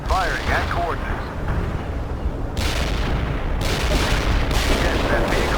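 Artillery and gunfire in a Soviet assault mission of the World in Conflict strategy game rumble heavily and continuously, loud booms and crackling fire filling the whole clip with no pause, with radio-style voice chatter over the top.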